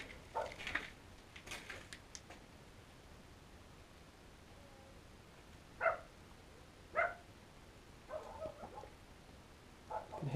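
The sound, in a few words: dog barking outside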